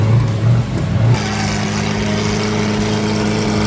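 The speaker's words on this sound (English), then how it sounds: "here is their Revuelto that they just put a brand new exhaust on" A Lamborghini Revuelto fitted with a brand-new Gintani exhaust roars loudly at a car-week show booth, a deep throaty rev that drops into a steady, rumbling idle.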